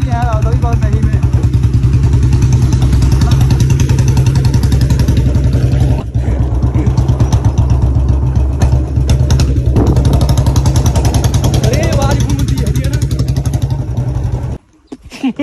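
A new Royal Enfield Bullet motorcycle engine runs loudly and close, a steady rapid thumping clatter that holds for most of the stretch before cutting briefly near the end.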